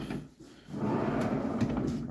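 A Mazda Bongo van's sliding door rolls back along its track in a rusty workshop setting, a short rumbling slide lasting a couple of seconds, close and moderately loud with no talk.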